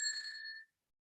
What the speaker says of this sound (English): We have the bell here.